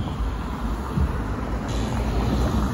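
At Dittmar, a southbound Amtrak Texas Eagle passenger train and a northbound Union Pacific mixed freight train give a steady, loud rumble and rolling clatter of rail cars, close by, with no voices.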